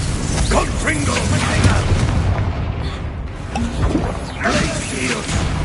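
Confringo blasting spell cast in the Hogwarts Legacy video game, heavy booming blasts with crackling impacts amid ongoing battle noise, with voices heard throughout.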